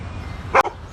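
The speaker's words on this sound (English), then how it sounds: "complain about an aggressive male dog that's been attracted to his dog who's in heat" A single short, sharp dog bark sounds at moderate distance in a quiet room, with no one talking.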